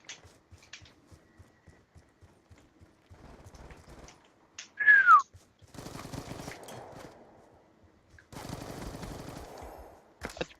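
Bursts of gunfire in an online shooter game, with a run of sharp muffled shots followed by denser volleys and a brief whistling effect, mixed with voices talking in between.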